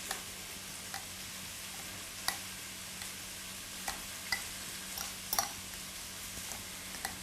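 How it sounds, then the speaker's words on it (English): Avocado mashed with a fork in a bowl, with juice mixed in for a vegetarian dish: soft, sparse squishing clicks and taps at irregular intervals, fairly quiet over a low steady kitchen hum, with no talking. "So I'm just going to take a fork, gently mash the avocado"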